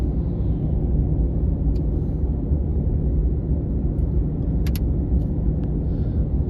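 Car traffic on the I-40 highway, a loud steady roar of passing vehicles and road rumble heard up close, with faint brief clicks on top.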